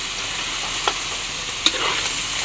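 Chicken livers and gizzards seasoned with black pepper fry for adobo while being stirred in a pan, giving a steady soft sizzle with a couple of brief scraping stirs.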